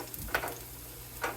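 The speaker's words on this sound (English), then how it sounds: "this gonna make a big sizzle" Faint crackling sizzle with a few brief louder spatters, like garlic hitting hot oil in a pot, no voices.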